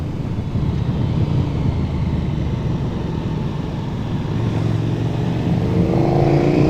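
A 1290 Super Duke R motorcycle engine drones steadily while riding, a loud continuous rumble that rises slightly in pitch near the end.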